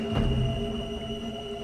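A young crocodile's call plays back over water, a short tonal cry with steady harmonic overtones, held at an even level for under two seconds.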